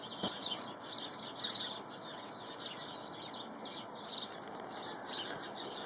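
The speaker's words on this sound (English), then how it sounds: "you can hear all these birds." Small birds chirp and twitter from a bougainvillea bush in a garden, a quiet scatter of repeated high calls over faint background hiss, with no voices.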